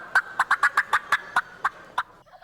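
A competitive turkey caller imitates a wild turkey gobble, a rapid string of about ten sharp, rattling gobble notes in quick succession, loud and close with no other sounds.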